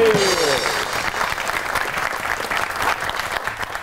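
A Pakistani TV comedy talk show's studio audience breaks into loud, sustained applause, dense clapping holding steady for nearly four seconds with a brief musical sting at the start.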